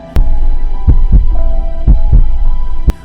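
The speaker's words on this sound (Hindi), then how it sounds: "अमित का दिल जोर जोर से धड़कने लगा।" Heartbeat sound effect thumping in deep, heavy double beats, slow and regular, loud and close over a low steady hum.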